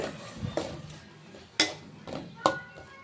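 A spoon scraping and clinking in a pan while ground masala is stirred into Chettinad chicken gravy, with a few sharp metallic knocks against the pan among softer stirring sounds, close by.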